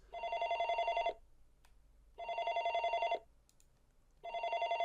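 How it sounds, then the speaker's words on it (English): Telephone ringing inside a telephone box in a visual novel game, a clean electronic ring in three one-second bursts separated by pauses, fairly quiet and alone. "But a sound that won't stop ringing, like an alarm bell."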